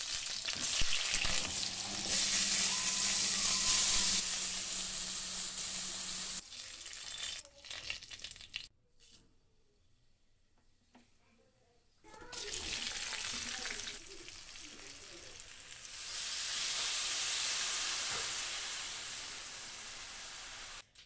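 Vegetables frying in a home-kitchen pan for lentil fritters, a steady loud sizzle and hiss that drops out briefly midway, then returns just as strong.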